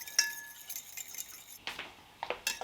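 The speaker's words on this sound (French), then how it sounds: "Je fouette bien à l'aide d'une fourchette jusqu'à ce que tout soit bien incorporé" A fork whisks mustard, cider vinegar and olive oil into a vinaigrette, giving quiet metallic clinks and brisk scraping swirls in short bursts, close up and otherwise near silent.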